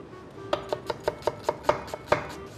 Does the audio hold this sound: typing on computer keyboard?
no